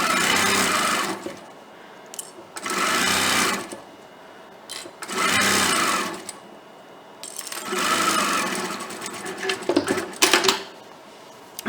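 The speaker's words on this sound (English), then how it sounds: "I'm going to sew this at a 1/2 inch." A sewing machine stitches a fabric pocket seam at half an inch in short, whirring bursts separated by pauses, close and clear, ending with a few clicks and handling sounds.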